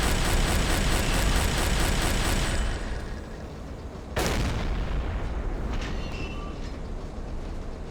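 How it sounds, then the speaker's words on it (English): Submarine deck gun firing in Silent Hunter 3, a sharp broadband blast near four seconds with a rumbling tail, set against steady engine and sea drone that is loud at first then eases. "But we are getting good hits in with our deck gun."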